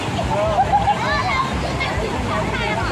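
Crowd of people playing and splashing in the water at Bo Sai waterfall in Tha Takiap, Chachoengsao, with flowing water and lively babble of many voices mixing steadily throughout.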